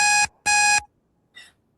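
A game-show style buzzer marks the end of a speaker's time on a talk panel, giving two loud, sustained electronic buzzes followed by a shorter, fainter one, with no talk over it.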